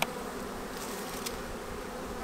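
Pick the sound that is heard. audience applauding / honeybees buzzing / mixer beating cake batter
honeybees buzzing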